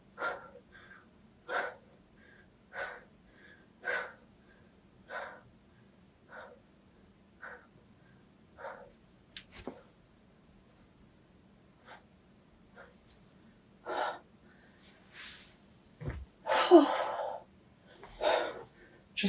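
Fast, heavy breathing from a woman recovering after a yoga stretch in an advanced pretzel-pose session: a steady series of short, close, audible exhales at roughly one-second intervals, with a louder gasping burst near the end.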